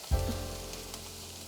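Beef pieces sizzle and caramelize in a hot pan for a beef stroganoff, a steady close frying hiss that swells briefly at the start and then holds even, with no voices.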